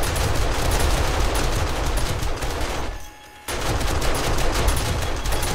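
An automatic turret in 7 Days To Die fires a dense, continuous stream of loud gunshots, broken by a brief pause of under a second before the rapid fire resumes.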